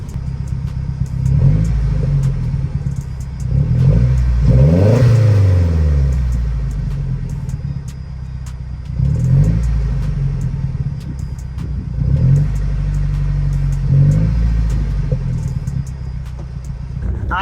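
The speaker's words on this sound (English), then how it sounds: "I am driving right now" A Mazdaspeed 3 hatchback drives steadily with a loud, continuous engine rumble inside the cabin, swelling in several revving surges as the driver accelerates and shifts.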